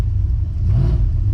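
A Dodge Dakota R/T with a Mopar M1 intake revs briefly, a loud, deep engine rumble that swells and lifts in pitch for a moment before settling.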